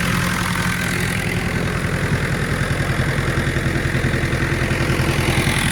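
A YuMZ-8280 tractor engine idles steadily up close, a loud low rumble with a rapid regular chug throughout and no voices.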